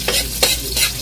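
Fried rice made from leftover rice is stir-fried in a pan, with continuous loud sizzling broken by rhythmic scraping and stirring strokes, close up with no talk.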